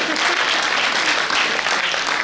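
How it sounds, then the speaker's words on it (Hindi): Dense, steady applause from an audience at a Hindi poetry gathering (kavi sammelan) in New Delhi, a loud continuous wash of many hands clapping with no gaps. "जोरदार तालियां अगर उठा सकते हैं"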